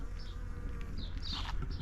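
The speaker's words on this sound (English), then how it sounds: "you'll get a good amount of bees with this one" Several bees buzzing faintly at a distance around a flowering fruit tree in a spring garden, their drones rising and fading as they pass, over a soft outdoor background.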